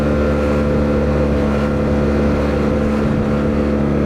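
A Yamaha Tmax 560 scooter cruising in touring mode, its steady engine drone droning loudly and continuously alongside wind rush, with no voices.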